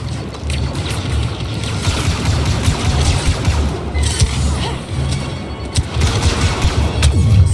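Blaster gunfire in Star Wars Battlefront II story mode, loud, rapid overlapping volleys that crackle continuously, with sharper bursts near the start and toward the end.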